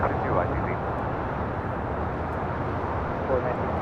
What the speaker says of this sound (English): Have the Polair Cargo and the Exelon Cargo livery at 777 freighter touching down on